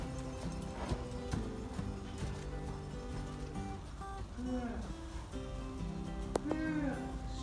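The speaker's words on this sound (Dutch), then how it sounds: "Hij loopt van me weg en ik ga aan de rechterkant van hem lopen." Horse hooves clip-clop at a steady walking pace on a hard surface, close by, with a few faint background noises.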